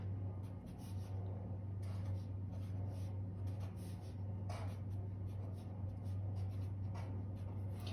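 An equation being written on a board: light, scratchy strokes come in short bursts with brief pauses between them, over a steady low room hum.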